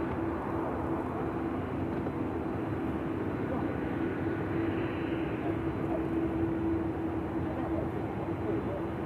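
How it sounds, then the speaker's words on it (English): Cathay Pacific airliner on its takeoff roll down runway 34 left at Sydney Airport, a steady broadband jet roar holding at even strength throughout, with voices talking over it. "Cathay is now rolling on runway 34 left."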